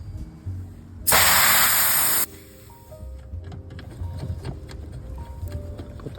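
Nitrogen purged from mini split refrigerant lines escapes in one loud, abrupt hissing blast about a second long, then drops to a quieter background of faint clicks and rustle.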